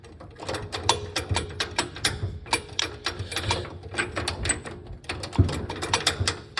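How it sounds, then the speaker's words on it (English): Gears being shifted on a 110 under repair, with the axle just fitted: a steady run of dense mechanical clicks and ratcheting clatter, close and fairly loud, with a brief pause near the end before it resumes. "now it's easier to shift the gears"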